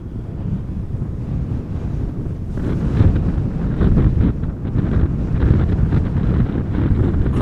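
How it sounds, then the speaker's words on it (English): Strong westerly crosswind at Amsterdam Schiphol Airport buffets the microphone with a deep, continuous roar that swells louder partway through, with no voices. "Crosswind from the west, still very much present."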